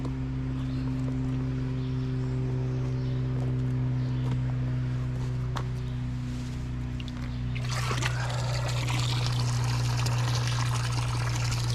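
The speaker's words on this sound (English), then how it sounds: "Got water going into the tank." Water runs into a tank with a steady trickling pour that grows into a louder, fuller splashing rush partway through, heard over a constant low mechanical hum, close by and without talking.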